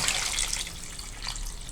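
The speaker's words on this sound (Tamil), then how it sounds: "இதில் இப்போ தண்ணி சேர்த்துக்கிறேன்." Water poured into a pressure cooker pot while making a quick sambar with drumstick and sesame oil, a steady close splashing trickle lasting under two seconds, with no voices.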